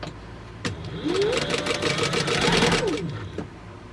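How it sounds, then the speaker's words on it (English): A domestic sewing machine runs in a steady burst for about two seconds, stitching fabric panels for a pumpkin bucket bag, with a few mechanical clunks before and after; close and fairly loud, no talk. "so I'm going to sew these back to back to back"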